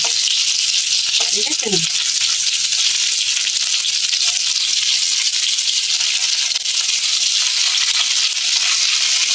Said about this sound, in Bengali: এইরকম ভাবে লাল লাল করে ভাজতে হবে